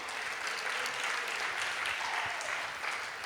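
Applause for the temple cooks at a Sunday deity worship class, steady dense clapping from a gathered crowd that runs without a break for about three seconds at moderate, somewhat distant level.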